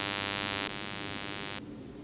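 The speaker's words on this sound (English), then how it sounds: "It actually just sounds kind of like a buzz noise." Simulated buzz of human vocal folds with no vocal tract filtering: a steady, harsh, rich electric-sounding drone, loud and continuous, with a step change in tone partway through and no talking.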